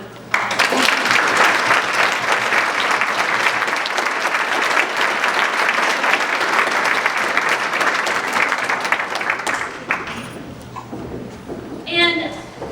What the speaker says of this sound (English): We have to give them another round of applause.